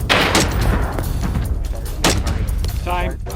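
Rifle shots fired from a tripod at an outdoor range ring out as a few sharp, loud reports spaced across a couple of seconds, over steady background noise and low rumble.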